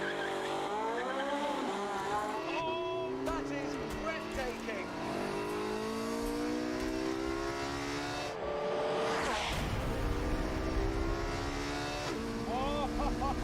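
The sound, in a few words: racing car accelerating at Abu Dhabi circuit, from a video game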